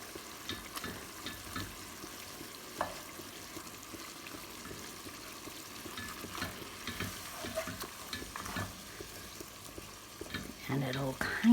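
Meat is broken up and stirred in a chili pot, with a soft constant sizzle and repeated scraping and prodding of a utensil. Handling gets louder toward the end.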